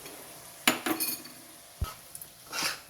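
A spoon scraping and clanking against a pan while yogurt is stirred into beef keema over low heat, a few sharp metallic knocks and scrapes, close and fairly loud.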